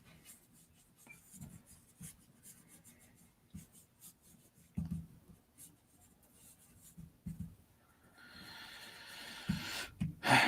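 Pencil sketching on paper for a sideways doodle of a Spartan: soft, close scratchy strokes come in irregular bursts and turn into denser, louder rubbing toward the end, as heavy shading begins.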